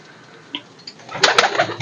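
Pigeons coo softly in an aviary, low murmuring calls at first, then a louder flurry of cooing and rustling toward the end, close and without talk.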